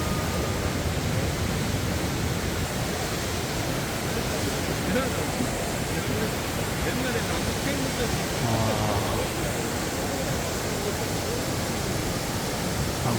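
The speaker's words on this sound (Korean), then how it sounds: "이제 폭포입니다" A steady, rushing roar of a mountain waterfall at Juwangsan in autumn fills the scene without letup, broad and hissing, with faint voices underneath.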